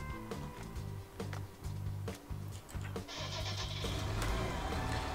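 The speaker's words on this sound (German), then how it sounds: "die Traktoren starten jetzt wieder automatisch" Tractor engines crank and start in a farming video game, with repeated chugging starter bursts that settle into a continuous low engine drone.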